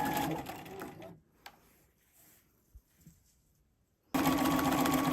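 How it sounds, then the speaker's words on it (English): A sewing machine runs steadily while stitching bias tape down on a hooded towel, then stops for a few seconds of near quiet and starts up again, close and loud. "So go ahead and stitch down."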